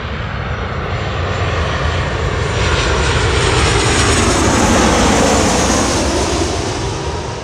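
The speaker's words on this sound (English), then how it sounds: "we have the Air Tahiti Nui 787-9 going to Paris" Air Tahiti Nui Boeing 787-9 jet at Los Angeles International Airport, a loud, broad engine roar that swells toward the middle and slowly eases, with no talking over it.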